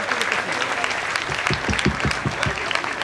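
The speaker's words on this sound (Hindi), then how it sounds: "कम से कम 1 मिनट तक तालियां रुकनी नहीं चाहिए" A crowd at a Ganpati puja gathering claps for a child, a steady continuous applause with a few louder distinct claps, while a voice speaks over it.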